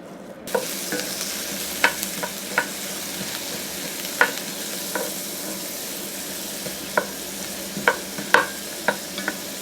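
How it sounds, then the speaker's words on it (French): Onions fry in butter in a cast iron pan on a stovetop, giving a steady close sizzle that starts abruptly. Intermittent sharp spatula scrapes and taps are scattered throughout, and no one speaks. "je vais couper 3 oignons et les faire revenir dans du beurre, dans une poêle en fonte, sur ma taque de cuisson"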